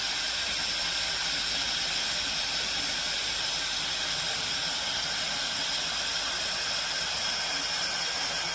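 A pressure cooker full of trotters vents steam from its valve in a loud, steady, unbroken hiss that carries on without pause, with no talk over it.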